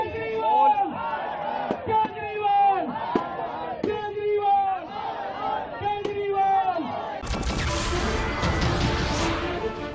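A street protest crowd over a Delhi water shortage erupts in loud shouted chants and cries, rhythmic group yells repeating several times, then a burst of broadband clapping and cheering near the end.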